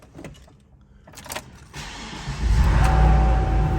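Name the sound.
pickup truck engine starting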